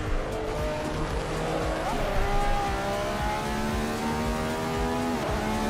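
A race car roars in the racing simulator Assetto Corsa, with its engine revving up and down through gear changes and tires squealing. It plays loud and continuous, with no talk over it.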